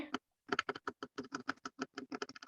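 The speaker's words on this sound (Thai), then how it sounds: "โอ้นี่เสียงใครพิมพ์เนี่ย" Rapid typing on a computer keyboard, a steady stream of crisp key clicks after a brief pause, close and clear.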